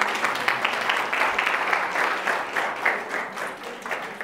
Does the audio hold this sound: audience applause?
yes